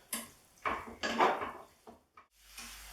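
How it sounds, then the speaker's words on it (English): Chicken livers being turned in a pan, a few close clattering scrapes and knocks of a utensil against the pan with faint sizzling between them, then a quiet tail. "keep turning them, keep searing them off for about 5 minutes until they're nicely cooked"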